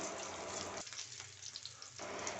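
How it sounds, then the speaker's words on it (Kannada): Mustard seeds, curry leaves and onion fry in hot oil for a drumstick sambar tempering, a close, quiet, steady sizzle that thins briefly in the middle and then returns to full hiss. "ನಾನು ಇದಕ್ಕೆ ಎಣ್ಣೆ ಹಾಕ್ಬಿಟ್ಟು ಸಾಸಿವೆ ಕರಿಬೇವು ಸೊಪ್ಪು ಮತ್ತು ಈರುಳ್ಳಿನ ಹಾಕಿ ಚೆನ್ನಾಗಿ ಫ್ರೈ ಮಾಡಿಕೊಂಡು"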